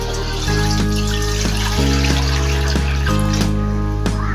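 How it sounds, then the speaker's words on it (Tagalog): Water pours steadily into a cooking pot while making tilapia sinigang, a continuous splashing stream close by with a rising tonal hum as the level climbs, heard alone without talk. "Maglagay tayo ng tubig,"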